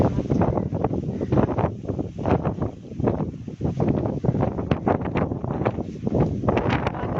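Strong wind buffets the microphone outdoors in bright sun, a loud continuous roar with gusty surges filling the whole stretch, no talk heard.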